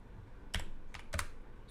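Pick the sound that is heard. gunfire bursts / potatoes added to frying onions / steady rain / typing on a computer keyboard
typing on a computer keyboard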